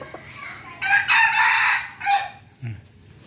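A rooster crows loudly in one long, drawn-out call, followed by a shorter trailing note and a brief low cluck, with faint background noise.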